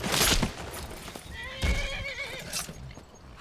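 A horse in the video game Skyrim neighs in two loud, shrill whinnies, one near the start and a longer quavering one mid-clip, with faint hoof clops and game ambience between them.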